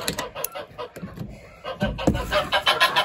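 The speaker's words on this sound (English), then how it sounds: "we need to let our chickens out and our ducks and our geese" Chickens cluck and murmur near a farm coop in the morning, several birds overlapping in uneven bursts while a person talks and footsteps and handling noises move around nearby.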